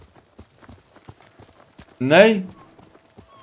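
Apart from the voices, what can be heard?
horse hooves in video game Ghost of Tsushima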